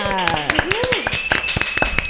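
A few people clap in quick, sharp, distinct strikes in a podcast studio, the claps ringing out under and between a presenter's lively talking.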